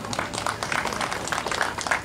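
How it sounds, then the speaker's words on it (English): Short burst of audience applause for a state senate hopeful at a Monroe, Connecticut campaign gathering, a moderate crowd of hands clapping steadily and fairly close. "So please give a big round of applause for Barbara."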